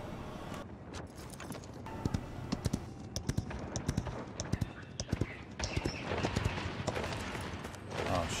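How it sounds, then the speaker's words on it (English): Horse hooves clop in a fast, uneven run during Paladins gameplay, loud sharp hits against a busy background of game noise, with a person talking over parts of it. "Oh shoot, I got on my horse too fast."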